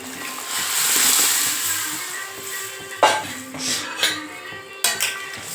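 Thick, wet cooked lentils slosh as they are poured into a pot of sambar, followed by several metallic clinks of a utensil against the pot's rim.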